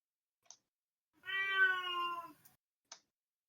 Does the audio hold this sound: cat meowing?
yes